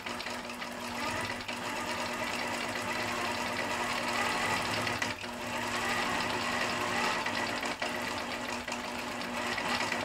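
A computerized sewing machine run manually, stitching around the edge of a fabric motif: a steady, fast mechanical whir with a rapid needle chatter and a constant motor hum, close and continuous, broken by two brief pauses.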